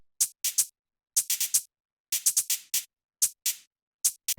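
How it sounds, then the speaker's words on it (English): Bright shaker rattles play in quick irregular bursts of two and three, bouncy and light, separated by short silences. "these little shakers in the background are a good way to add a lot of depth"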